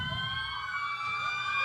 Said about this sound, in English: Red fire trucks.